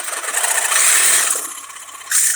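A Ryobi power tool cuts through exhaust parts at the flange of a 1996-2000 Honda Civic DX, giving a loud, steady high-pitched whine that eases off midway and then surges back near the end.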